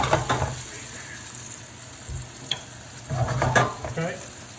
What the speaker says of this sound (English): I'm going to add in the garlic. Let that get nice and fragrant as I cook it.